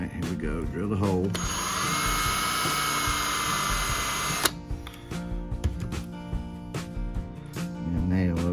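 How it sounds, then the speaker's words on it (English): A power drill bores a hole in a hiking stick medallion, a loud, steady high whine lasting about three seconds before cutting off sharply, followed by light handling clicks and taps. Speech is heard before and after the drilling. "Drill the hole."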